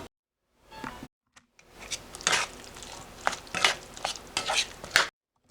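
Vegetables, eggplant among them, are stirred and scraped in a pan with other food, giving irregular close clatters and rustles that grow busier after a quiet start, with faint sizzling beneath.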